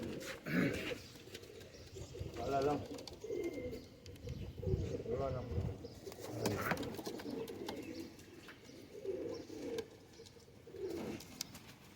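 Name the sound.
pigeons cooing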